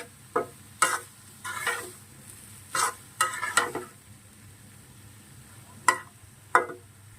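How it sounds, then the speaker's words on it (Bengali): Mixed vegetables go into a pan of browned onions and fry, with a low sizzle under a series of sharp, separate scraping and stirring strokes of a spatula against the pan. "এখন সবজিটা ঢেলে দেব"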